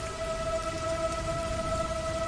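Rain falling outside a room window, a steady, even hiss of rainfall with a faint constant tone running underneath.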